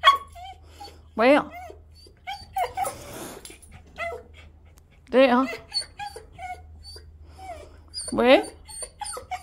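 A dog lets out a few high, whiny whimpers spaced apart, with a person talking briefly in between.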